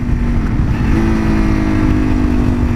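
Suzuki DRZ400SM supermoto, a 2017 model, decelerating as it runs down through the gears, a steady loud single-cylinder engine drone with shifting pitch, no talking over it.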